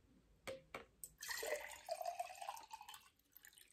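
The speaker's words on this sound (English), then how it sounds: "Now what if I take this jar and pour the water in the jar?" Water poured from a pitcher into a jar, opening with a couple of sharp drips, then a rising gurgling stream that fills the jar with climbing pitch before tapering to trickles; close and fairly quiet.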